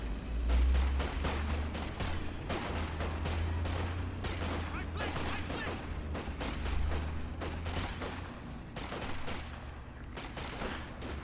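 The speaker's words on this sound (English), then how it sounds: "Not doing a very good job of dodging these rifle grenades from the fighting position." Rifle grenades bursting in a Company of Heroes 2 battle on a frozen map, a steady stream of sharp blasts and cracks over a continuous low rumble of combat, some louder impacts standing out near the start and end.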